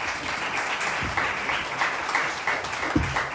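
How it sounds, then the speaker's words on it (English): An audience at a local news summit claps together in a steady, continuous round of applause, with a few sharper individual claps standing out. "Round of applause."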